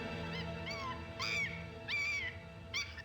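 Wolf in Gabriel Knight 2 giving a run of short, high whining yelps and whimpers, four or five rising-and-falling cries over a quiet steady background hum.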